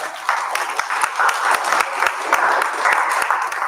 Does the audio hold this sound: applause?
yes